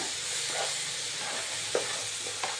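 Brinjal curry stirred in a pan over a gentle sizzle, with a few soft scraping strokes of the spoon heard up close and no voices.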